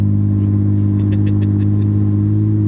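A 1400 WHP twin-turbo Porsche street car with 62 mm turbos and full Motec management pulls hard under acceleration, its loud, steady engine rumble droning without a break, heard from inside the cabin.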